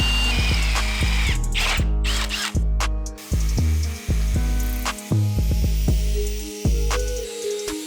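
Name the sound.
power drill drilling into truck metal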